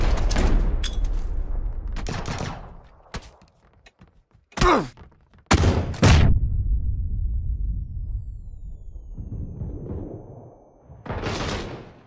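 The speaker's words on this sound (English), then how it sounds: "Do you like the grenade?" A grenade going off in PUBG, a few heavy thumping booms set among scattered bursts of game noise and quiet gaps, loud and close, with no voices.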